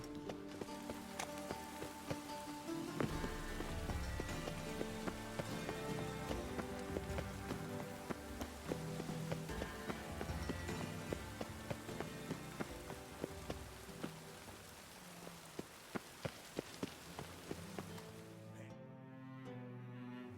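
Steady rainfall over a city in The Witcher 3, a soft continuous patter on surfaces mixed beneath layered game music, with occasional sharper taps and faint hoof-like clops, cutting to near silence at the end.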